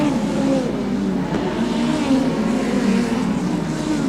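Midget speedcars race at Archerfield, engines droning and revving loudly in a continuous roar as the pack circles the track, with a race commentator talking over it.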